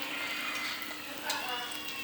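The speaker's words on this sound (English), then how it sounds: "So there's my eggs sizzling." Eggs frying in a pan on a stove give a steady, close sizzle with light crackle and a few brief pops, heard alone.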